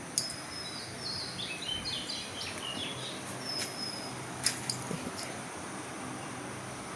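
Birds call and chirp in a garden with red hibiscus in bloom, quick high twittering phrases and a few sharp chirps over a steady outdoor background hiss, with no talking.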